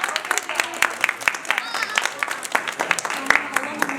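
A small group of children claps unevenly in scattered bursts, close by, while voices talk and chatter over the clapping.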